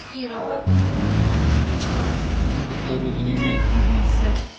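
A cat meows loudly and insistently at a veterinary sterilization mission in Ukraine's Poltava region, with long drawn-out cries close by over a busy, noisy background.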